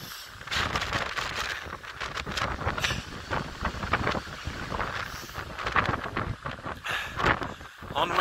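Steady gusting wind buffets the microphone on a wet hillside walk in Wales, a broad roar rising and falling throughout with no break.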